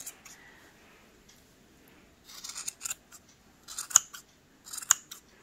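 Scissors trimming yarn to shape a pom-pom on a smooth surface, several short sharp snips in small clusters, close and fairly quiet.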